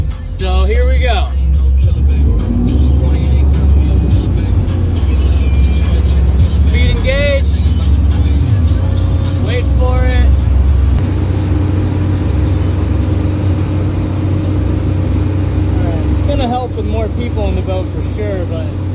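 A 2011 Malibu VLX wakeboard boat fitted with a Mission Delta 2.0 wave shaper runs on a lake, its engine a steady, loud, low drone throughout, with people talking over it.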